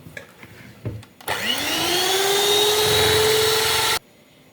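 Electric mixer whisking eggs into cake batter, a steady loud whirring drone that starts abruptly, rises slightly in pitch and holds for nearly three seconds before cutting off.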